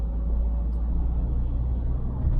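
An older Peugeot 508 HDI SW diesel estate car on a test drive, giving a steady, loud, low engine and road rumble heard from inside the cabin, with no talking.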